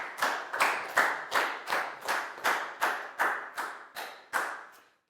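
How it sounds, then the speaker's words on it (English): Brief burst of clapping in a classroom, a small group of children clapping together in quick, even beats for about five seconds before it tails off; no talking over it. "High five and a big round of applause to Net for our vertical axes."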